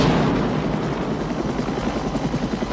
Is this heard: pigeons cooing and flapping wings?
no